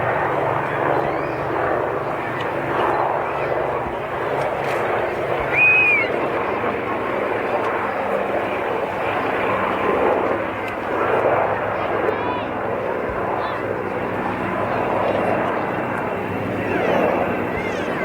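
Historic Royal Navy aircraft in a flying display at the Swansea Air Show, a distant droning engine that swells and fades under a continuous public-address commentary.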